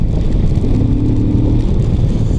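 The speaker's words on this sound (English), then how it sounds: "The engine sounds really nice" A QJ Motors 450 RX adventure motorcycle's engine runs and pulls, a steady close mid-pitched drone with a slight rise partway through, alone without talk.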